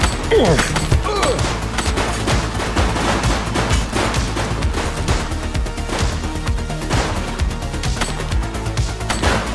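Dense gunfire from a police shootout in the video game The Precinct, with rapid overlapping shots and crashing impacts that keep up loud and steady for the whole stretch, joined by a brief voice near the start.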